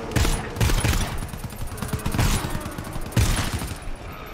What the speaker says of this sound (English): Man, sentry gun.